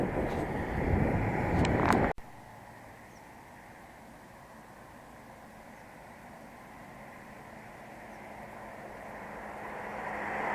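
Wind buffets the microphone in a loud roaring burst for about two seconds while cycling into a headwind, then drops to a faint steady rush that slowly builds again.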